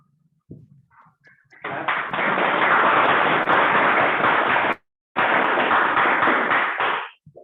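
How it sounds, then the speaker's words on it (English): A thundering round of applause for the general evaluator at a Toastmasters club meeting, loud and dense, breaking off briefly midway before resuming and stopping abruptly. "Please welcome him with a thundering round of applause."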